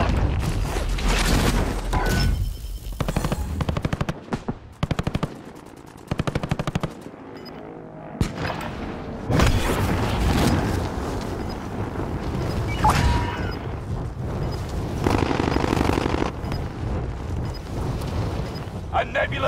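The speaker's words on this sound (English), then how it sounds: "Tactical nuke inbound." Gunfire and explosive booms from a tactical nuke strike in a video game, with dense bursts of automatic fire and heavy blasts continuing throughout, mixed with voices talking over the action.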